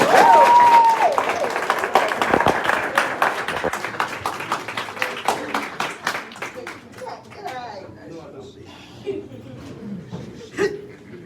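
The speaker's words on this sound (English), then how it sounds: "Give me a round of applause." Students and staff at a high school freshman induction applaud for the principal, a dense clapping burst that thins into scattered claps with light chuckles and murmuring as the noise fades.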